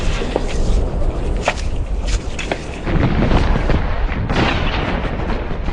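Artillery and rifle fire in World War I trench warfare at Gallipoli, heard as loud, continuous dense crackling with repeated sharp reports and booms close by, without a break across the whole stretch.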